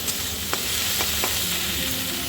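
Chopped tomato stirred into fried onion in a hot pan, with a continuous soft sizzle and three distinct spatula scrapes spaced about half a second apart, close and without talk.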